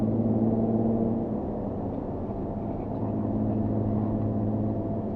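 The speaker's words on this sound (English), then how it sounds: "with the active exhaust on, it really is an attention grab" Steady engine drone from a Jaguar F-Type with active exhaust under acceleration, heard from inside the car at a constant moderate level with a low tonal hum throughout and no clear rev changes.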